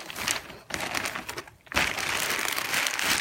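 Plastic bag crinkles and rustles as paper-towel-wrapped, water-drenched artwork is slid inside, a continuous close crackling with a brief pause midway, then louder steady crinkling.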